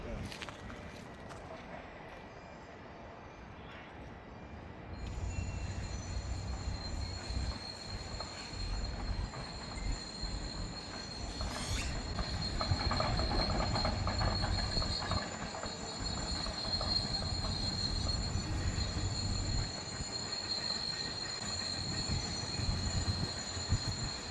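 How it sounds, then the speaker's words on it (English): A train rolls past on rails outdoors at a mining site, a steady rumbling approach that builds and lingers, with high wheel squeal and clatter at moderate distance, while people chat in the foreground. "Oh, the train."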